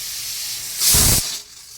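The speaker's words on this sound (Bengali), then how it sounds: "দেখুন, সিটি দিয়ে দিচ্ছে।" A pressure cooker with soaked rice and raisins for pulao lets out a short, loud steam whistle, a bright hiss rising out of a quieter background hiss and fading after about half a second.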